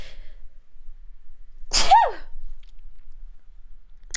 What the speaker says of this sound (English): ignore the sneeze